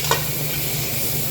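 Soy sauce hits a hot pan of pancit kanin with ground meat and vegetables, a steady close sizzle with stirring, a brief brighter splash near the start.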